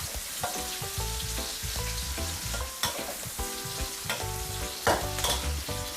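Shrimp stir-frying in a pan for a stir-fried napa cabbage dish with tube tofu, a steady sizzle with repeated scraping strokes and a couple of sharper utensil knocks, close and fairly loud, no talking.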